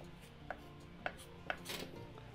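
Knife chopping peppers on a board for Turkish menemen, a few distinct sharp chops spaced about half a second apart, close and fairly quiet with no talking.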